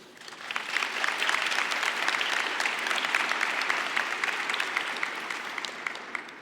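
A graduation convocation audience at Carleton University applauding, a sustained wash of many hands clapping that swells and slowly tapers off.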